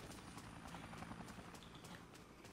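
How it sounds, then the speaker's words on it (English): Helicopter in the video game Dead Rising, a steady rhythmic rotor chop pulsing at an even beat, faint and continuous with a low engine drone beneath, with no talk over it. "I hear a helicopter."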